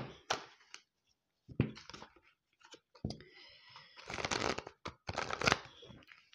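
Tarot cards, a gilded deck, are shuffled in close, crisp bursts of riffling and slapping with short pauses between, quiet overall.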